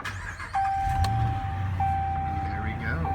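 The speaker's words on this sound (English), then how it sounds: "Now I'm going to climb in and turn on the car for you." 2014 Ram 1500 pickup truck started with a key in the ignition: a steady electronic chime, then the engine catching and settling into a low idle, recorded close from inside the cab.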